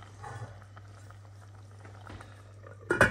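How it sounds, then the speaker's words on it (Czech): Veal paprika stew simmering in a pot, a steady low bubbling hiss with small pops throughout, ending in a brief louder clatter as a lid is set on. "takhle už se to vaří, to úplně stačí"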